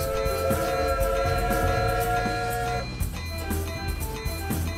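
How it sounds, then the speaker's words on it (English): Trains in the Train Valley video game rumble past with steady rail noise, layered horn-like tones and a continuous mechanical hum that shifts partway through. "another train coming"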